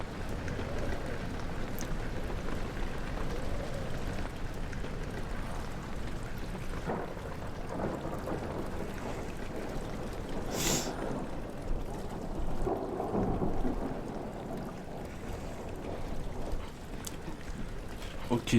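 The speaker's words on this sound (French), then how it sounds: "Il pleut." Steady rain hisses softly in the horror game Amnesia The Dark Descent, with one brief sharp crack near the middle, all kept low and distant.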